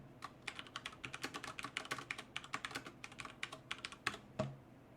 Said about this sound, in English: So when I type in a line of input,